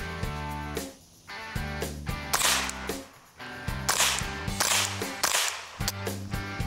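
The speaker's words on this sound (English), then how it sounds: "Should expect some supersonic crack, but still very little muzzle blast." A Ruger 10/22 Takedown with an integrally suppressed barrel firing hypersonic PMC rounds: several sharp, whip-like supersonic cracks spaced about a second apart, close by over a steady low hum.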